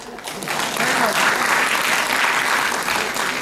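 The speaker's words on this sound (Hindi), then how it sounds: "ताली बजाओ।" A crowd at a motivational speech in Dungarpur claps. The steady, dense applause swells within the first half-second and holds fairly loud for the rest of the stretch.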